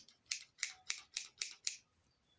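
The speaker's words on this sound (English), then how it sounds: "These are scissors." Large scissors snipping six times in a quick, even rhythm, close and crisp, followed by a faint final click in a quiet room.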